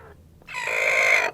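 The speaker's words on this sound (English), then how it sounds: "you've got chickens and ducks right there" Farm chicken calls among hens and ducks near a barn, one loud drawn-out crowing call close by, above a low background hum.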